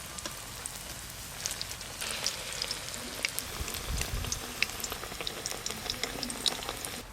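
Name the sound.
vegetable fritters deep-frying in oil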